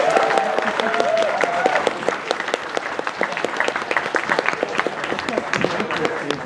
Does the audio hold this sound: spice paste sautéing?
no